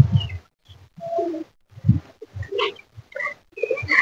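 Pigeons coo close by in a series of soft, throaty phrases separated by short pauses, with no voices.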